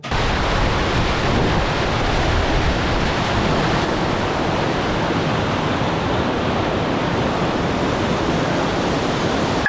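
Whitewater on Teter Creek roars steadily through a rapid under a bridge, a loud, dense, unbroken rush of churning water with no voices.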